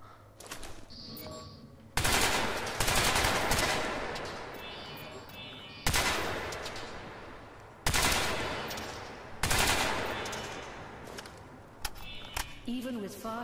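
Rapid bursts of automatic gunfire from the Crysis 3 video game, loud broadband volleys starting around two seconds and repeating in several bursts with decaying tails, a voice speaking between them.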